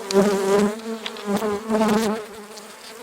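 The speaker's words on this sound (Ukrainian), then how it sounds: "Бджолу розбурхав." Honeybees buzz loudly and agitatedly up close while being moved to a new hive, their drone rising and wavering in overlapping pulses.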